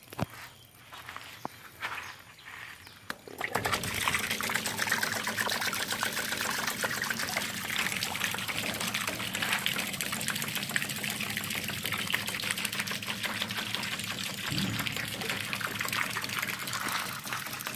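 A water ram pump draws water from a tank through a siphon during a test of suction distance for a prototype. After a few seconds of quiet, a loud, steady rush of gushing water starts and runs on without pause, with no voices.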